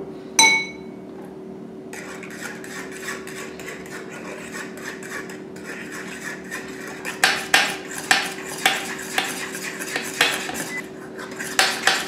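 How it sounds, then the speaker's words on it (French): Cocoa being stirred into thickened sugar syrup in a pan, giving steady scraping and rubbing with light clinks of utensil on metal, growing into sharper, more frequent taps toward the end, with a low hum underneath. "maintenant, je vais rajouter le cacao et je vais mélanger"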